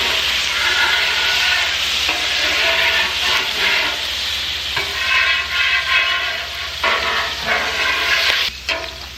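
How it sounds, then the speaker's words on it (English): A hot pan sizzles loudly after water is poured in, with irregular scraping strokes of a utensil across the bottom as the steam and crackle rise and dip up close. "I poured the water on, I let it sizzle up, scrape around."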